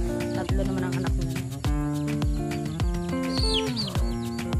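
Hens clucking on a Filipino poultry farm, with rhythmic repeated clucks and cackles close by alongside softer bird calls in the background, and no talk.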